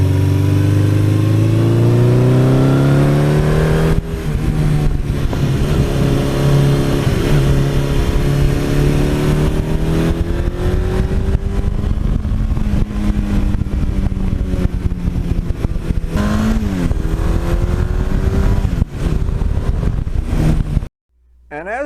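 A 1982 Suzuki GS1100E motorcycle engine runs loud and close, its steady drone rising and falling through several revs over about twenty seconds before cutting out at the end.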